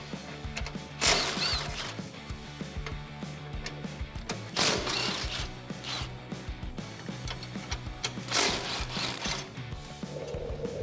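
A ratchet with a 15mm socket works the frame plate bolts at the front end of a 2019 Chevrolet Silverado 1500's frame, giving three close bursts of rapid, loud clicking over a steady low background hum.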